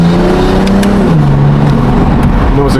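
BMW M440i with loud aftermarket intakes, engine revving and droning steadily at close range, with rising and falling pitch; people talk briefly over it.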